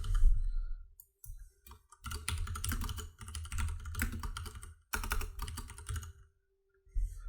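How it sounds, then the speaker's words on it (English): Someone types a company name on a computer keyboard in several quick bursts of close, crisp key clicks separated by short pauses. "And in here, just type your company name."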